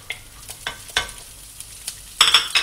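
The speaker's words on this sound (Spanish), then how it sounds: "en una sartén con un chorrito de aceite de oliva, que el aceite ya esté caliente, primero añadiremos los espárragos." Asparagus hits hot olive oil in a pan, giving short sizzling bursts and stirring clicks spaced irregularly, then a louder, brighter crackle near the end.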